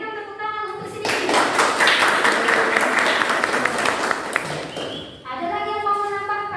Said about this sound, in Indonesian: Berikan tepuk tangan untuk Sidini